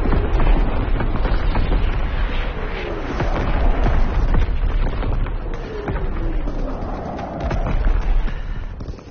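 An artillery barrage in the Call of Duty WW2 video game brings a continuous rumble of heavy booms and explosions. Loud, dense blasts roll one into the next with a whistling sweep, and no voices are heard.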